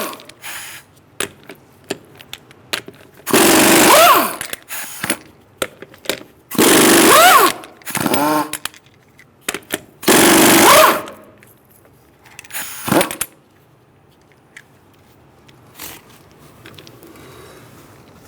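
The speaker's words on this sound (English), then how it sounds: "I'm going to use a 19mm socket to take the lug nuts off the rear wheel." A power tool turning a 19mm socket to remove lug nuts from the rear wheel of a 2014-2018 Subaru Forester 2.5L runs in three loud, sustained bursts, followed by shorter rattling bursts and quiet clinks of metal between them.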